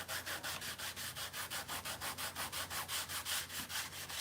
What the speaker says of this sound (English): I want to see if this fine sandpaper can clean off this track